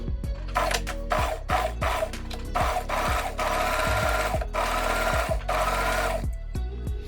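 A sewing machine stitches a fold on a shirt front in short, start-and-stop bursts, the motor and needle clattering close by, with brief low thumps between runs.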